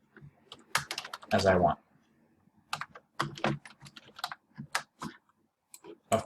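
Typing on a computer keyboard while adding text in a Google Sites text box, short bursts of clicky keystrokes mixed in between a person's speech.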